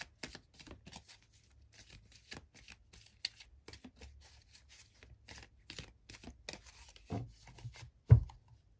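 A deck of tarot cards is shuffled close up in quick riffling bursts, soft papery flicks repeating unevenly with a heavier tap near the end.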